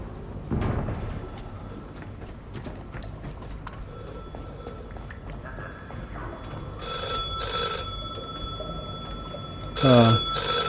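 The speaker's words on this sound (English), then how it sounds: "did I just hear a phone?" A telephone rings in The Last Caretaker video game, with shrill bursts near the end over a noisy game soundscape.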